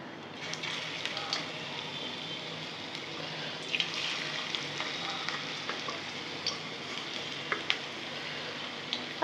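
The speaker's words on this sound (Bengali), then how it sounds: "আমি আমার সাইজের মতো বড়াগুলো ভেজে নিলাম।" Jute leaf fritters, pata shaker bora, fry in hot oil with a steady bright crackle and occasional clinks and scrapes of a utensil, close and continuous.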